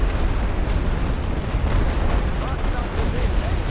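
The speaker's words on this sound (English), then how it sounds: "Throw some light artillery over here and make sure we're suppressing." Continuous rumbling barrage of light artillery in the trench-warfare game The Great War: Western Front, with overlapping booms and bursts forming a loud, sustained wall of noise.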